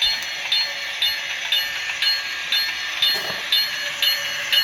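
An HO scale model train backs slowly through a layout station, giving a steady mechanical running noise with a regular clicking pulse repeating roughly every half second.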